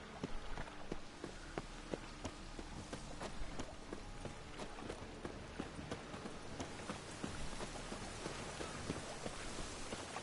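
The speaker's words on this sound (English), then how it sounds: "And it's raining again." Steady broadband rain hiss in The Witcher 3 open world, continuous and moderately loud, with scattered sharp taps and faint footstep-like thuds throughout, no voices.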